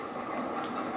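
A train moving in a Skylanders: Spyro's Adventure video game gives a brief, steady, faint rolling rumble.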